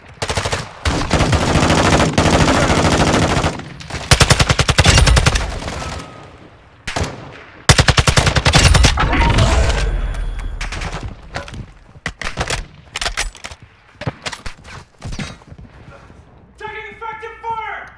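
Heavy video game gunfire in the Vondel map, with long bursts of rapid automatic fire and scattered single shots, loud and close, broken by brief pauses and short chirping sounds near the end.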